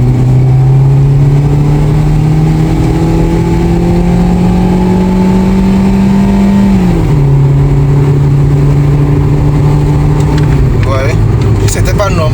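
Kia Picanto engine droning steadily at high speed above 120 km/h, a loud sustained hum that shifts pitch twice, with road and wind noise throughout.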